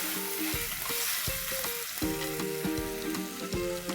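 Ginger garlic paste sizzling in hot oil for a raw mango curry, a close steady crackle under repeated metallic clinks and scrapes of stirring, with no talking.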